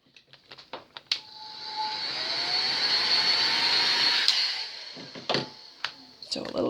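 Heat gun blowing hot air over vinyl wrap on a computer mouse, a steady loud airy roar lasting several seconds, with small clicks and handling noises before and after.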